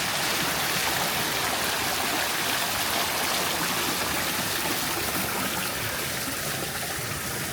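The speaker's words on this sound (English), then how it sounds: "I love the fountains everywhere" Flowing water from hotel fountains makes a steady, dense splashing rush that fills the space evenly from start to finish, with no voices.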